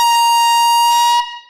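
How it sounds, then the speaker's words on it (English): A loud, sustained air horn blast at a live record sale auction holds a steady harmonic tone for about a second before cutting off abruptly, with a short room echo trailing away. "Air horn, third of the night, I believe."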